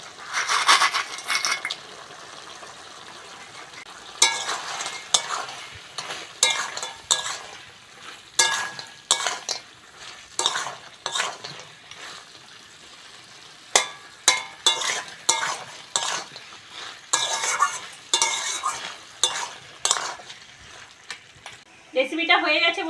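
Fried lentil dumplings (bori) are stirred into a frying potato and pumpkin curry, giving repeated scraping clatters of a spatula against the pan over a steady sizzle, with a sharper metallic rattle near the end.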